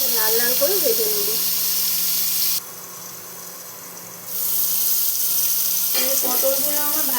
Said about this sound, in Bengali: পটলগুলো আমার ভাজা হয়ে গেছে,